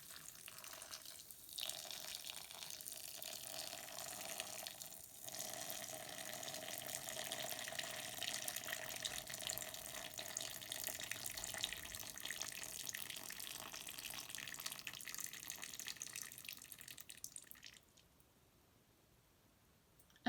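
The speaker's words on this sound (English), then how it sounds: "we're going to let the water run out of our holes and onto our castle" Water trickles steadily out of the holes in a cup onto a sandcastle, a continuous soft splashing hiss lasting several seconds before it stops near the end.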